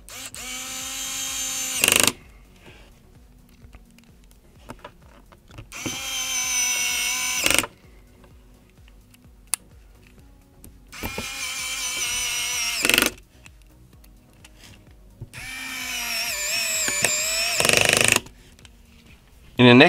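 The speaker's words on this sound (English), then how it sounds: "For the next step, we now screw the four screws of the LCD inside." A power screwdriver drives the four LCD screws into an iPad during a repair, sounding in four loud whirring bursts of about two seconds each, separated by quieter gaps.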